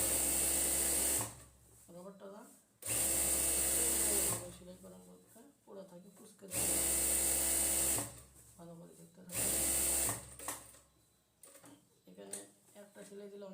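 A sewing machine stitches wide elastic onto a pajama waistband, running in four loud, steady whirring bursts of about a second or two each, with someone talking in the pauses between them.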